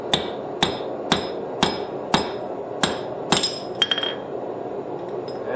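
Sharp, ringing hammer blows on steel while a rivet is peened over on a pair of forged flat jaw tongs, about eight evenly spaced strikes close up, with a quicker cluster of lighter taps near the end.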